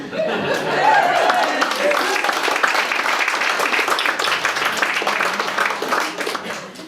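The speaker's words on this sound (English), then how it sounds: "Ty, thanks for kicking off the applause that time." Steady applause from an audience fills the room, mixed with some laughter and a voice talking over it, holding at a fairly even level throughout.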